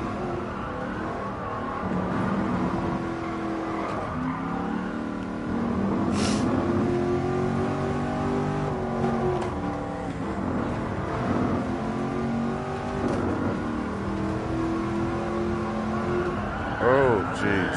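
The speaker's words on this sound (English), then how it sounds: "And the motor sounds pretty good." Engine of a classic dream car revving through gears on the Nurburgring in GT Sport, a steady loud drone with rising and falling pitch sweeps and a brief tyre squeal near the end, with a voice talking over it.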